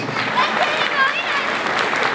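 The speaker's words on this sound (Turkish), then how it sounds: "Adnan Damal Dernek Başkanımıza böyle kocaman bir alkış gönderir miyiz?" A hall crowd gives a short burst of applause for an association president at a Damal district solidarity night, with a voice talking over the clapping.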